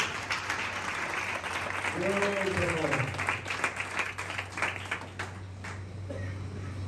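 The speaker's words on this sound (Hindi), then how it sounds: "जोरदार तालियां दे दो उसके नाम के लिए" A church congregation at a worship service in Pakistan claps together, a moderate, fairly distant wash of applause under a speaker's voice heard briefly in the middle, with a steady low hum running beneath.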